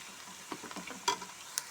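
Sliced onions fry in a pan until golden, giving a soft, continuous sizzle broken by light scraping taps as they are stirred.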